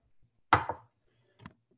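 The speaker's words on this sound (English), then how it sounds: "I'm going to cut them on down." A knife cuts green onions on a board, with one crisp chop followed by a fainter second cut, close and isolated.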